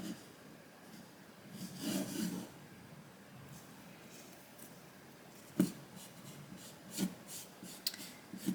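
A brush pen moves over pencilled lettering on paper, faint soft rubbing strokes in several short bursts with a few sharper scratches, quiet and close.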